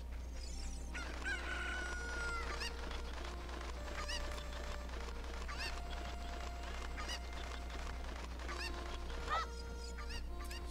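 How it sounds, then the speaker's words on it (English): Cuccos, the chickens of Zelda Ocarina of Time, crow and cluck repeatedly over a steady low game hum, the calls coming in scattered bursts at moderate volume with no talk. "Come here, chicken."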